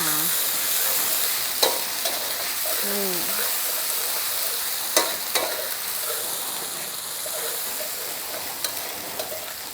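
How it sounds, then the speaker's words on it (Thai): Garlic and chili stir-fry in oil over medium heat, a steady close sizzle running throughout with a few soft scrapes and clicks of a utensil against the pan. "เดี๋ยวกระเทียมกับพริกลงไปจะไหม้ เราก็ต้องผัดให้เขาหอมก่อนนะคะ"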